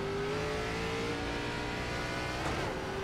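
Race car engine in an oval-track racing video game at Phoenix International Raceway, a steady droning hum of an approaching car with a faint rising pitch, fairly quiet and continuous, no talk.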